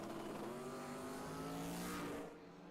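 A Ford EL Falcon drag car makes a pass at a drag strip, its engine roaring loud and steady with rising harmonics as it accelerates, then fading sharply near the end.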